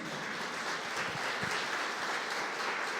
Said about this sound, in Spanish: Dele un aplauso al Señor, amén.